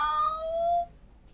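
A farm cat stuck high in an apple tree in an orchard gives one rising, wavering cry that lasts under a second and fades into quiet.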